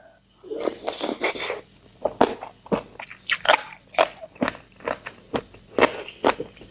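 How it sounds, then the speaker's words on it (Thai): Crunchy fried jellyfish with chili dip being bitten and chewed up close, a run of sharp crackling crunches in an irregular rhythm, loud and isolated without talk. "กรอบมาก"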